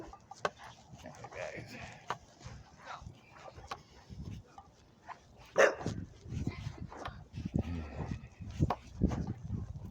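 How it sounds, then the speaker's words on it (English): Dogs guarding a yard bark in scattered bursts at middle distance, mixed with whimpers and road noise as someone passes by on a road. "just the good dogs guarding their yard."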